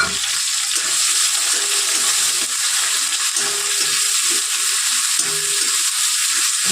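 Sliced onions sizzle in hot oil with garam masala and dried red chilies, a loud, continuous hiss that holds steady for several seconds.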